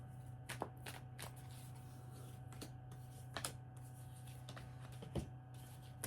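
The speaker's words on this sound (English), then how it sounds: "Keep shuffling the cards for a moment." Tarot cards being shuffled by hand in a quiet room, making soft repeated riffling snaps at an uneven pace over a steady low hum.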